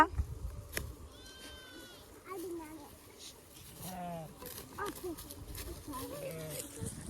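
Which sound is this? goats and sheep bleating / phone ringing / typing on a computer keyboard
goats and sheep bleating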